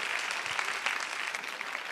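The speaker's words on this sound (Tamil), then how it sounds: "மறுபடியும் ஒரு பலமான கைத்தட்டல் நம்மளோட ஸ்ரீராஜ்காக." Dense, steady applause from a studio audience at a televised singing competition stage show, a continuous wash of many hands clapping at even loudness with no talk over it.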